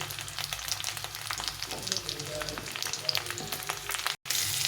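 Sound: potatoes and taro frying in a pan

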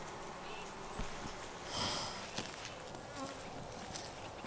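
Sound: honey bees buzzing around a beekeeper at the hive

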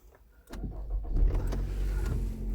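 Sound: Nissan Rogue engine starting

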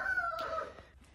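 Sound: chickens clucking in coop

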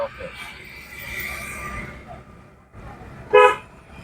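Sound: car horn honking

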